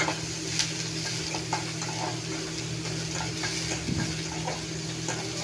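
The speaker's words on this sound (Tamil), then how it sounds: "ஆனியன் வந்து நல்லா ப்ரௌன் கலர் ஆகிற வரைக்கும் நல்லா வறுத்தெடுக்கணும்," Onions fry in a pan until brown for a soya chunk fry, a steady close sizzle with occasional light stirring scrapes and ticks, and no one speaking.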